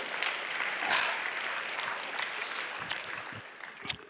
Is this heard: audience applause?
yes